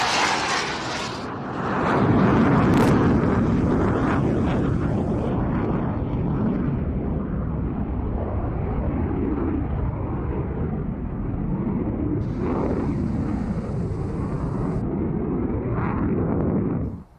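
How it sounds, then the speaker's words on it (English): MiG-21 Cold War combat jet at an air show: a loud, steady roar that swells early and holds as the jet passes, with some crowd or commentary noise underneath and a brief fade at the end. "the MiG-21, a classic craggy combat jet of the Cold War era, and brilliantly flown there"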